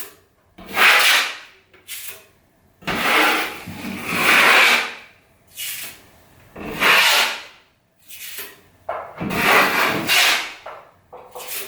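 A big drywall knife scrapes excess filler off a bathroom ceiling in long rasping strokes, five or six loud close passes separated by short pauses, with no talk.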